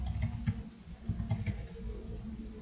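Code being typed on a computer keyboard during a C# drawing lesson with the Pen class: quick, steady keystroke clicks, close and fairly loud, with a brief pause before a second burst and no talking.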